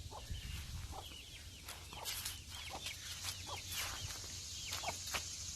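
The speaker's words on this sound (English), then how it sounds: "A lot of baby chickens." Soft chirping and clucking of small chicks, scattered high calls repeating irregularly over a steady low rumble, fairly close.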